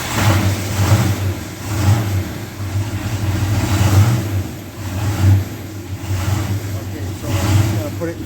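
A 1970 Plymouth Duster engine runs on a test stand, its mid-pitched drone rising and falling in repeated revs over several seconds, loud and close with no talking.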